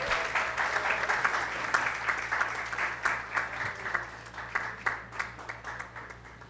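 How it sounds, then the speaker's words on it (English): At a high school graduation ceremony, the audience claps for award recipients returning to the stage, a continuous spread of handclaps with individual sharper claps standing out, over a low electrical hum. "Let's give them a round of applause as they accept their awards."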